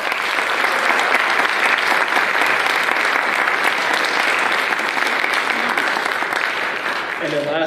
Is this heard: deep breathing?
no